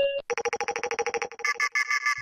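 Electronic telephone ringtone for a podcast call-in segment, a rapid series of about a dozen bright tonal pulses followed by a few longer warbling tones, loud and close with no talk over it.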